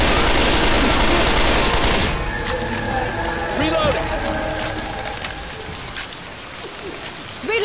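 Rapid automatic gunfire bursts in Left 4 Dead 2 co-op play, dense and loud for the first two seconds, then thinning to sporadic shots as players talk over the action.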